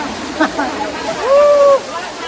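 Lihonjar waterfall in Karbi Anglong pours as a constant close rush of water, with a voice briefly heard over it.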